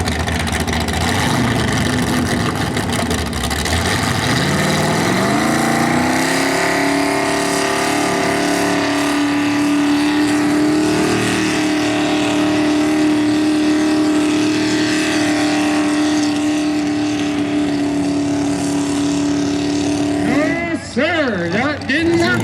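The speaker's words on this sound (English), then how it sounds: "This little 351 Cleveland does pull hard." Supercharged 351 Cleveland engine with four straight pipes per side in a mini rod tractor puller, a loud sustained roar that climbs in pitch and holds steady at high revs, then drops off near the end.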